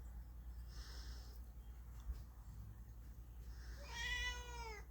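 A house cat gives a single drawn-out meow near the end, a rising and falling cry close by over a steady low hum, after a quiet stretch with faint breathy noises.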